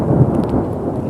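Deep rumbling thunder from an arriving thunderstorm rolls loud and close in one continuous, heavy growl, with rain noise blended underneath.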